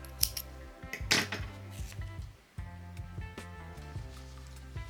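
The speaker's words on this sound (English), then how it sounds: "pull through your yarn and cut off" Scissors cut off yarn after crochet stitching on a vest, giving several close, crisp metallic snips and clicks of the blades, with brief quiet gaps between them.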